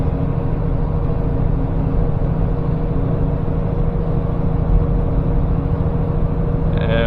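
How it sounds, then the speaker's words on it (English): From inside the cab, a semi truck descends Monteagle mountain with its Jake engine brakes engaged. A deep, steady diesel drone with strong low harmonics holds unbroken for about seven seconds, loud and close. "So you'll hear them referred to as engine brakes, Jake brakes, but it's all the same."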